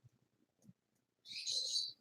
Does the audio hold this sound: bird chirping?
yes